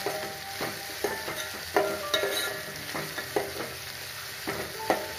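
Cashews fry in oil in a pan for hotel-style upma, sizzling softly while a spoon scrapes and stirs in repeated, irregular strokes, close up and without speech.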